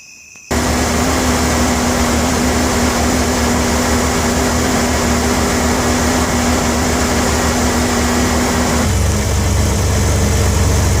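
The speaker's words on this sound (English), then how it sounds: "the idle will continue to drop" A car engine with aftermarket EFI idles steadily and close as it warms up, a constant low rumble with a faint whine; the pitch drops slightly near the end.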